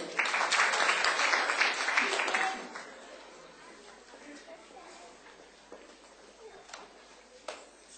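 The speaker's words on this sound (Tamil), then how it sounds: "அங்கே உங்களுடைய கரகோஷம்." Applause from a Christmas gathering audience fills the opening seconds, loud and dense, then fades into a murmur of room noise and scattered chatter.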